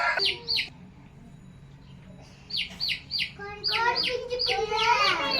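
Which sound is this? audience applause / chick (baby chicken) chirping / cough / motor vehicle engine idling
chick (baby chicken) chirping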